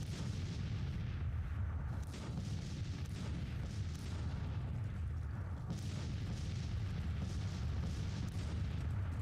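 Continuous rumbling artillery fire in Grand Tactician: The Civil War, with dense overlapping booms rolling one after another at a steady loud level, no talk.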